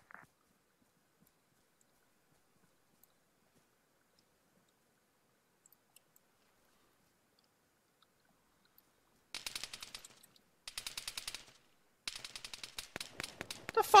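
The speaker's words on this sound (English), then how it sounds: "What the fuck you firing suppressed machine gun shots for?" Suppressed machine gun fire in the military shooter Arma 3, mostly quiet at first, then several sharp bursts of rapid muffled shots in quick succession, growing louder and denser toward the end with no talking.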